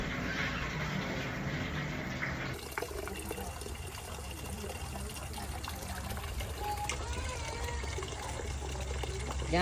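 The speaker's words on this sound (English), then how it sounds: "I'm gonna be pouring it through that sieve on the top of the still" Grape wash for brandy is poured through a sieve on top of a still, a steady trickling and splashing of liquid with a shift in flow partway through and machinery humming underneath.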